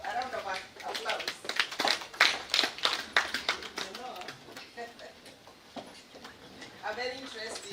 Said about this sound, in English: Give a clap, a round of applause.